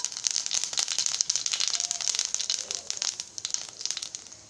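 Whole spices crackle and spit in hot oil at the start of a cabbage curry, a dense run of sharp pops and sizzling close by with no talking.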